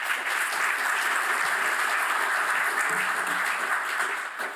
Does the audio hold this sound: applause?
yes